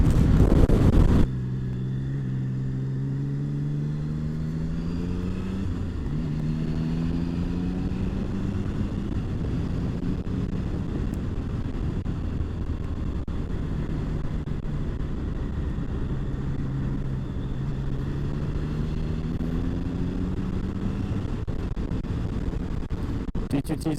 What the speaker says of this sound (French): je suis à 50 km/h à peu près 2500 tours et ça reprend sur un filet de gaz vraiment hyper léger